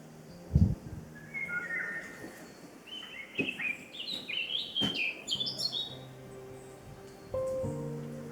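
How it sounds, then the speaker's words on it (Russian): Eurasian golden oriole singing in a May forest, its fluting whistled phrases and chirps repeating over several seconds, fairly close, with faint rustling and a low thump early on. "я уже второй день слышу, как сзади распевается Иволга"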